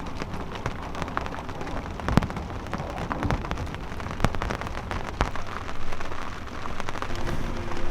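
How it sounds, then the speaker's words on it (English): Steady rain patters on a sailboat with scattered louder drips and taps, continuous and close, no voices. "So it's currently raining"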